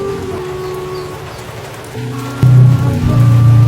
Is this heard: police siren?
no